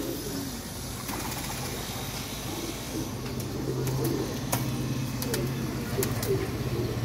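Pigeons at a loft cooing, including a caught Pulsara pigeon, with repeated low throaty coos over a continuous background murmur and occasional sharp clicks and rustles.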